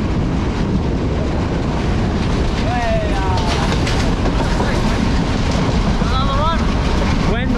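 Passenger train running along the south coast of Sri Lanka, a loud, constant rumble of wheels and rushing wind heard from an open doorway, with a few brief squeals and whistles cutting through.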